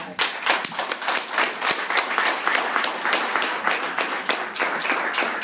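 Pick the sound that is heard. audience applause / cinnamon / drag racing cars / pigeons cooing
audience applause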